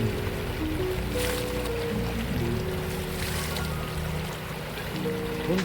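Steady rushing water of the Hundru hill river above Hundru Falls, a constant dense flow with a low tonal hum beneath that dips slightly near the end.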